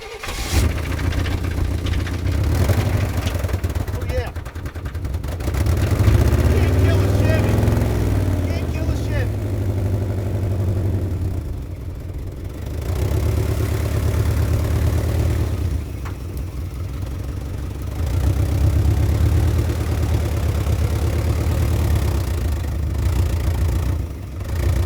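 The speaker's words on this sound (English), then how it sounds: "The throttle seems to be stuck." A Chevy car engine running on with a stuck throttle, holding a loud, rough high-rev drone that surges and dips in waves, with people talking over it at times.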